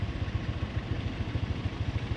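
Motorcycles and other vehicles in traffic, with a close engine throbbing in a steady, fast low pulse that holds at an even level throughout, no voices.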